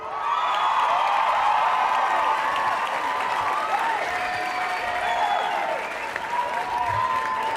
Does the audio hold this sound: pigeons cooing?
no